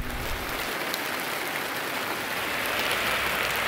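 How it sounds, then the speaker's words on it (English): Steady rain pouring down outdoors along a Swedish bike route, a dense, even hiss of drops on surfaces that holds at a constant level throughout, with no voices. "Well, the rain finally caught up to me."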